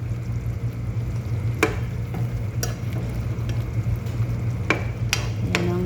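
Chicken biryani with potatoes and chili sizzles steadily in a pan, with a constant low frying hiss broken by several sharp scraping and stirring clatters, close and alone without talk.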